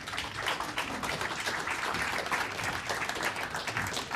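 Faint, steady applause from a seated lecture audience, many hands clapping evenly throughout with no voices over it.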